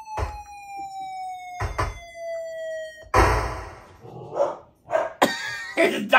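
A dog barks in several sharp, loud bursts indoors, interrupted by long electronic siren-like tones from a retro 8-bit computer game, with some voice in the background.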